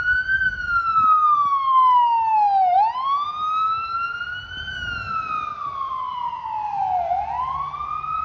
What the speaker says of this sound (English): And here comes an ambulance responding.